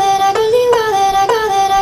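A vocal chop cut from an acapella for a dubstep-style vocal drop, a repeating sung syllable pattern with sharp re-triggered attacks and sliding pitch, loud and dry with no talk.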